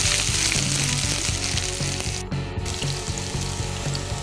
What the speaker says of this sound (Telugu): సో తాలింపు అంటే వెల్లుల్లితో తాలింపు వేస్తున్నారు